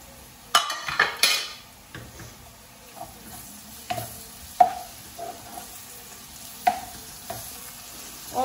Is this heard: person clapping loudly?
no